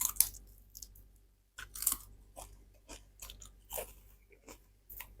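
Crunchy dried fish is chewed right at the mouth, giving a string of irregular, brittle crunches and bites with short quiet gaps between them.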